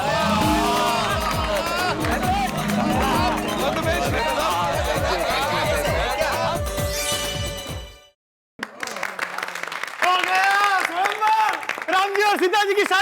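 Stage audience for a joint performance by a couple costumed as Ram and Sita breaks into loud clapping and cheering mixed with crowd chatter and music, cutting briefly to silence before festive music and voices return.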